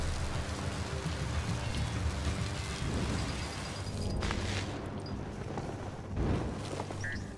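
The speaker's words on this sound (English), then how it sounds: "Might as well just dive in that rain and get wet." Steady rain in the video game Biomutant, a continuous hiss of drops pattering on surfaces, with a few heavier rumbling swells partway through and no talking.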